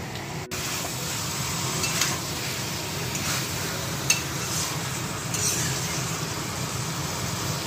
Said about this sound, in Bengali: আলু ভাজাটা প্রায় হয়েই এসেছে